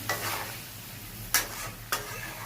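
Spice-rinse water poured into a pan of sizzling green papaya curry with green chillies, a steady close frying hiss broken by two sharp splashing bursts as the liquid hits the hot pan.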